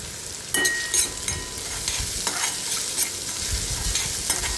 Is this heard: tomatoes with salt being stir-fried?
yes